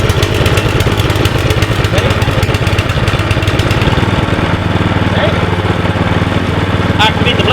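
A petrol lawn dethatching machine runs steadily and loudly nearby, a continuous engine drone with a rhythmic chugging at first that settles into an even hum, with a voice faintly mixed in.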